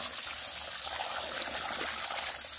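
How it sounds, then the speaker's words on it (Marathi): A Sadbhav 5 HP solar pump motor pushes out water in a continuous, even gushing splash that stays close and steady throughout, with no voices. "तर ह्या ठिकाणी थांबून पाणी मारत आहे मोटर"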